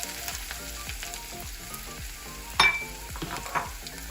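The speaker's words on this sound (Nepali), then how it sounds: "अघि तातेको तोरीको तेलमा फेरि मैले यसलाई गुन्द्रुकलाई राखेर भुट्दैछु" Fermented mustard-leaf gundruk frying in hot mustard oil over low heat, a continuous close sizzle with regular spatula strokes and a sharper clatter near the end.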